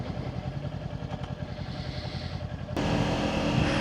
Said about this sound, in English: You should put as loud an exhaust on your bike as possible